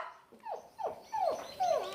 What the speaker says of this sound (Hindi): कहा कुकुर बोला था?